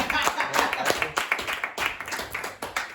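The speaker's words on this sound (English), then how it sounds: "Big round of applause here for Ram." A small classroom group claps for Ram, an uneven run of near, sharp hand claps over several seconds, with a voice talking underneath.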